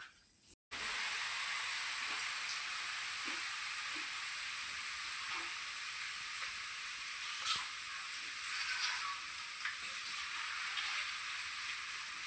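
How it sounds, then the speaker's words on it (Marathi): Corn flakes (maka pohe) fry in hot oil with a steady, dense sizzle and hiss that runs nearly unbroken after a brief gap at the start, close and fairly loud, with only faint clinks of stirring. "तर पहिले मका पोहे तळून घ्यायचे आपले"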